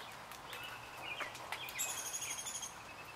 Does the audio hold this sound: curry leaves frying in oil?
no